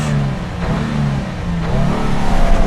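A Subaru WRX tS launching from a stop with the clutch slipping around 4,000 RPM, a loud, steady engine drone that builds slightly in strength toward the end.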